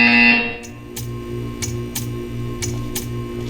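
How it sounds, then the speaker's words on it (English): A buzzer in the Portal 2 video game sounds as a series of regular, evenly spaced electronic pulses, about six short buzzes roughly every half second, over a steady hum after a brief tone at the start. "You will hear a buzzer."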